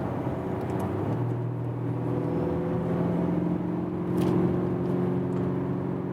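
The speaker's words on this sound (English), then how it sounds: "there's this low frequency sound actuator sound" A 2020 Audi SQ5 drives along with a steady low, droning engine hum from its sound actuator, smooth and continuous with a slight swell near the end, and no talking.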